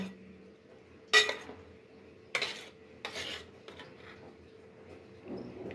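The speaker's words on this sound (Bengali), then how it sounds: "এখন আমি ডিমে চুবিয়ে নিচ্ছি চিকেনটা।" Chicken pieces for cutlets are dipped in beaten egg in a bowl, heard as a few separate clinks and scrapes of utensil on dish with soft wet rubbing between them. The sounds are close and quiet, and no one talks.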